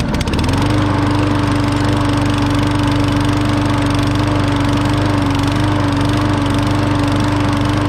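Murray lawn mower engine starts and runs steadily, a loud continuous droning hum with a strong steady tone that holds throughout, close by with no talk.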